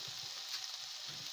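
Food sizzling in a deep frying pan in a home kitchen, a quiet, steady hiss and crackle of hot oil with faint low thumps, no talk.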